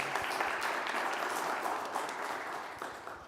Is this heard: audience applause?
yes